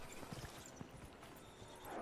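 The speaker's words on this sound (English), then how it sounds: "I'm getting back on the horse." Horse hooves clip-clopping in the video game Dragon Age: Inquisition, a steady moderate patter of hoofbeats close by over a constant low ambient bed, with no talk.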